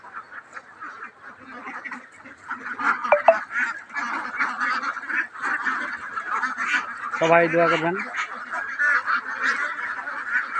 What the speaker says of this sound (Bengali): হাঁসগুলো বর্তমান সুস্থ এবং সফল আছে।